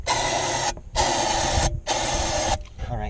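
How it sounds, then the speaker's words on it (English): Three long bursts of aerosol spray hissing from a can, aimed at a no-start Range Rover with a suspected bad fuel pump, each blast steady and close with short gaps between. "Let me spray some of this first."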